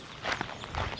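Footsteps on an outdoor path, a few soft steps at a walking pace, close but fairly faint against light background noise.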